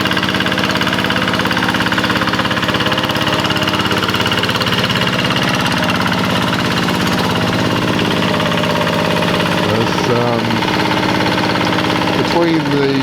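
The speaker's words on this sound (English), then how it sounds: "Between the tractor and that board he's standing on, there is an implement in there which has sort of rotating blades." Tractor engine pulling a rotating-blade implement that works rice straw into the soil, a loud, steady, close droning rumble running unbroken throughout.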